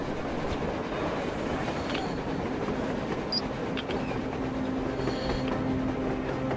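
A train rumbles along on the surface in the post-apocalyptic game Metro Exodus, a steady, moderately loud rolling drone with faint clanks, heard alone without speech.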